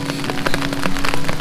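Hail falling on a mountain trek from Kareri village toward Kareri Lake makes a dense, steady patter of close, hard hits with no talk.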